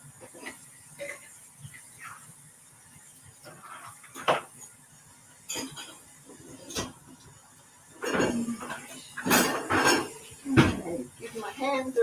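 Dishes and cutlery clatter in a home kitchen as they are carried over to the dishwasher, with scattered light clinks early on and a louder burst of clanking toward the end.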